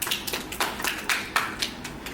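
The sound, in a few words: audience clapping at talk show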